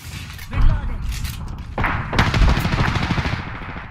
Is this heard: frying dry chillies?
no